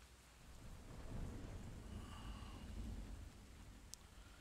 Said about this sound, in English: Rain in the background is okay, but it doesn't quite do it.